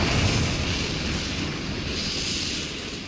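Confringo spell blast in the video game Hogwarts Legacy, a loud broad rumbling explosion that swells at the start and slowly tails off over a few seconds, heard alone.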